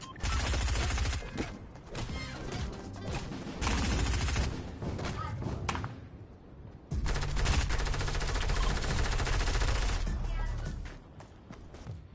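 Drum gun firing in the Fortnite video game: long, loud, rapid automatic bursts with a brief pause in the middle, then sustained fire again.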